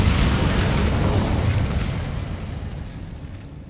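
Incendio fire spell cast in Hogwarts Legacy, a loud whooshing burst of flame that roars at full strength for about a second and a half, then fades gradually over the next two seconds.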